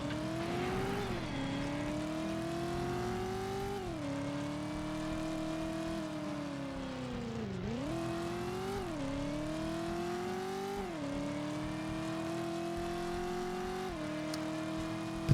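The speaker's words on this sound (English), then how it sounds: "My car's not even fast enough to catch this car." Steady engine drone of a car chasing another car in Driver on PS1, a continuous whining tone that rises and falls with gear shifts and throttle over a long stretch.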